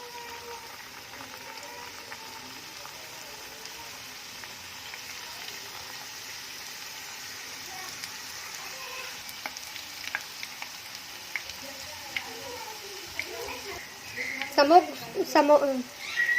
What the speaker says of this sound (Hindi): ऑयल हमारा गर्म हो गया है। अब हम इसमें समोसे डाल लेते हैं।